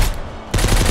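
A sudden rapid burst of automatic gunfire with a punchy, game-like crackle from the video game Mist Survival breaks in after a moment of low hum.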